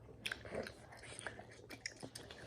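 Close-up chewing of chewy rice cake (tteok) alongside chicken, with soft wet bites and quiet mouth sounds in a short, faint, irregular rhythm.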